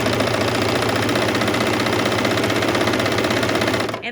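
A bernette 64 serger runs fast as it stitches through fabric, making a dense, loud, even mechanical whir that holds steady and cuts off right at the end.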